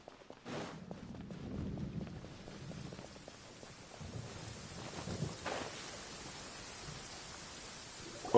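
Stormy weather in Genshin Impact, a faint bed of rain and wind with soft low thunder rumbles and a couple of brief brighter cracks, fairly quiet overall.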